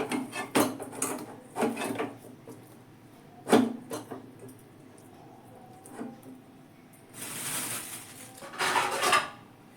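Kitchen utensils and pots clatter while parathas dough of drumstick leaves is covered to rest: scattered close clinks and knocks of metal and wood, a couple of sharper hits, and a brief rustling scrape near the end.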